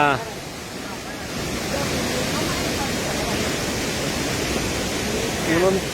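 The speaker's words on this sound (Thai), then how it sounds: "น้ำตกตาดสาวา" Tat Sawa waterfall roars with a loud, constant rush of falling water close by, and a voice speaks briefly at the start and again near the end over the torrent.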